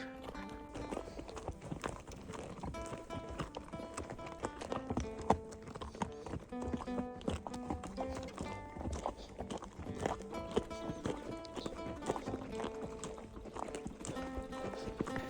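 Horses' hooves clop steadily and unevenly down a rocky mountain trail in Kyrgyzstan, a continuous close, fairly loud patter of hesitant steps with no talking.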